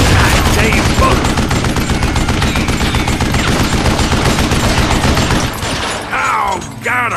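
Dense, loud rapid-fire gunfire from the video game Call of Juarez: Gunslinger, continuous shots blurring together before tapering off near the end, with a voice briefly exclaiming over it.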